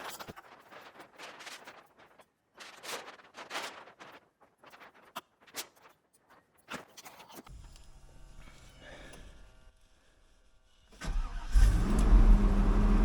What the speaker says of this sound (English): reduced engine power, but that sounds much better already